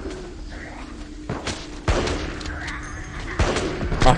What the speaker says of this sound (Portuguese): O cara já tá metendo tiro nos zumbis aqui.